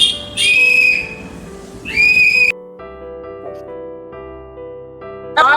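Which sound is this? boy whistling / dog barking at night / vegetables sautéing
boy whistling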